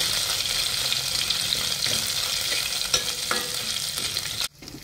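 Grated ginger and bloomed cumin seeds sauté in hot oil, a dense, even sizzle up close with occasional stirring knocks before the sound drops away at the end.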